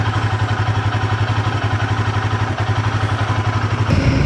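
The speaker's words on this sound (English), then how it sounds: "we are on the motorcycle" Royal Enfield Himalayan 450 motorcycle engine running steadily while riding, a continuous close mid-pitched drone with a low rumble and a brief change near the end.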